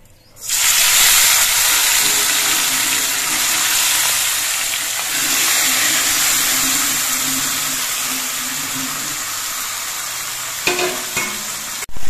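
Chicken pieces hit a pan of fried spice paste, setting off a loud, steady sizzle with broad hiss that holds for about eleven seconds before a few clattering stirs near the end.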